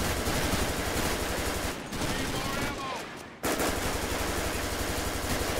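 Rapid automatic gunfire from a GTA 5 police gang unit shootout, dense continuous bursts that break off briefly midway before resuming loud and close.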